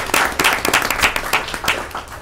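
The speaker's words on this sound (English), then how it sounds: "that deserves a rounds of applause" An audience at a school event applauds, with distinct individual claps rising and falling in a quick, uneven rhythm at moderate volume.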